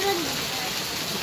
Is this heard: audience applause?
no